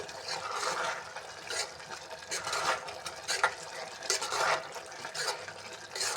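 Carrot halwa with ghee is stirred in a pot, giving a thick, wet, irregular squelching and scraping that rises and falls in uneven strokes at close range; no one speaks.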